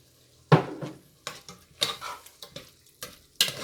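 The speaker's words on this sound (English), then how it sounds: "We're going to stir it up." A spoon stirs a whole jar of Prego sauce with meat in a pot on the stove, giving a series of close, distinct scraping strokes against the pot with short gaps between them.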